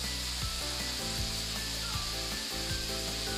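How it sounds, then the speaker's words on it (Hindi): Masala paste in hot oil sizzles steadily in a pan while black chickpeas are being cooked, a dense continuous crackle with occasional soft scrapes of stirring, close and even throughout. "मसाला बहुत अच्छी तरीके से भुन गया"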